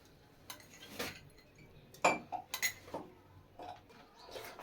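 A spoon clinks and scrapes against a bowl while chili powder and cumin are stirred together, irregular close taps and chinks with quiet gaps.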